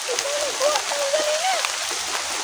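Heavy rain pours down in a steady, dense hiss on surfaces nearby, with a voice sounding faintly over the downpour.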